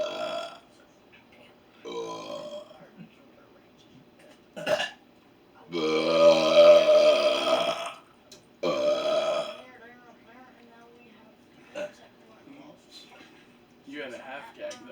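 A series of loud, drawn-out human burps comes in several bursts, some long and croaking, separated by quiet gaps and short bits of conversation.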